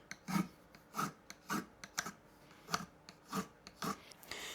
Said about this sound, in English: I'm going to use my cheeky Crimson file with the safety edge, and I'm just going to make sure that there's no nasty burrs